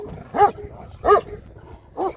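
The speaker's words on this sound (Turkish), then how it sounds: "Köpekler de birbirleriyle oynuyorlar." Three short, sharp barks from dogs playing with each other in cold, snowy weather, evenly spaced and fairly close, with quiet pauses in between.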